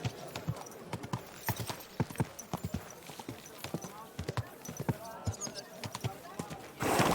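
Horse hooves clip-clop in a quick, uneven rhythm on a hard surface in the video game Kingdom Come: Deliverance II, close and steady, with brief voices and a burst of noise at the end.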